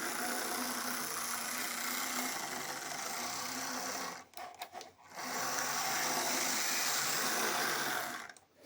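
An old Lima model locomotive's electric motor runs at half power, giving a steady high buzzing whir that cuts out briefly midway, then resumes before stopping near the end.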